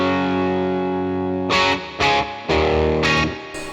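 A Yamaha Revstar RS720BX electric guitar plays through a Vox-style amp model: one sustained, slightly driven chord rings out, then four loud, choppy strummed bursts follow at a steady rhythm.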